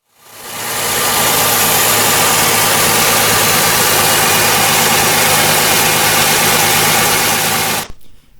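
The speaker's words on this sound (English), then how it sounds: "I'm going to try to show the sounds that the engine is going to make again" A Chrysler 300 engine with an EGR vacuum leak roars steadily at close range for several seconds, then cuts off abruptly at the end.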